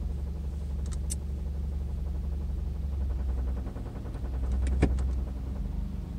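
Steady low engine rumble and road noise inside a moving car, with a few brief faint clicks and a louder short rattle near the end; no talking.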